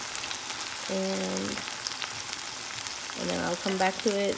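Bhindi (okra) masala cooking in oil over a high flame, giving a steady broadband sizzle throughout, briefly interrupted by a voice talking.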